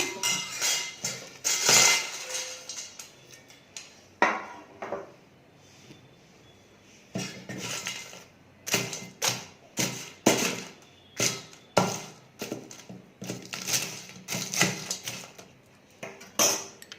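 Fried cabbage pakodas tumbling into a kitchen bowl, heard as a run of clattering, clinking taps and dish knocks in irregular bursts, close and fairly loud with no talk.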